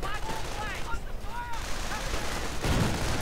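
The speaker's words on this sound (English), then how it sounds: "Despite the MG42 heroically blasting away at them." MG42 machine gun in a World War II strategy video game, rattling off sustained bursts among other gunfire and explosions, with battle noise throughout and a heavy blast near the end.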